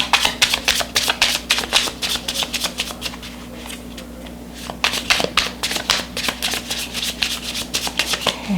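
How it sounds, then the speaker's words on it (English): A deck of oracle cards is shuffled by hand in a run of crisp, rapid riffling and flicking bursts, pausing briefly midway before a second steady round of shuffling, close and clear with no talking. "I'm going to give another chance for these to get shuffled."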